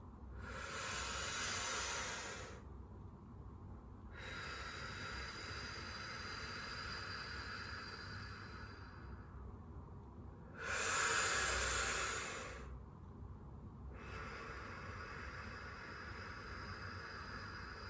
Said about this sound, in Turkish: Ağızdan nefes alalım.